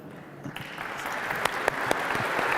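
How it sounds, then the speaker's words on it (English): An audience applauding a speaker at a Catholic conversion talk, with scattered claps at first building into a steadier, fairly quiet wash of applause with a few sharp distinct claps. "you better clap for that"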